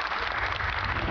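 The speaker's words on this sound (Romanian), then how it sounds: "Aplauze!" Television studio audience of a reality dating show applauding, a brief dense burst of clapping that fills the whole clip.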